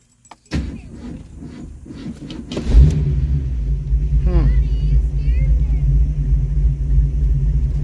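Ford Mustang engine fitted with a QFT Slayer 750 carburetor restarting: a click and cranking, then the engine catches with a loud burst and settles into a steady, close idle rumble.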